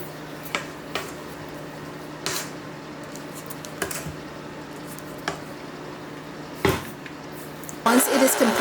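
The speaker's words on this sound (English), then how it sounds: "I'll stop it midway and give it a good stir so I can get to the bottom of" Chocolate cake batter stirred in a mixing bowl, with scattered soft scrapes and clinks of the utensil against the bowl over a steady background hum, ending in a brief louder burst of scraping.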